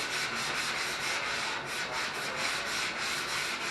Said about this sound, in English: Ashton, show us how you sand the fender.